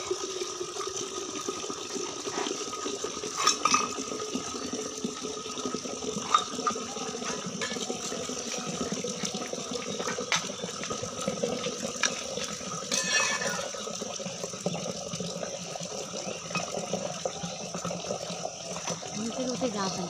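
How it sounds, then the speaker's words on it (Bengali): Water from a tap running steadily into a container at home, a continuous hissing splash at moderate level with occasional clinks, and a voice speaking over it. "কল চালিয়ে দিলাম, জলটা ভরে দিই"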